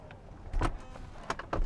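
The electric door of a Tesla Model X opens, making a few faint clicks and soft motorized thumps at close range in a quiet setting.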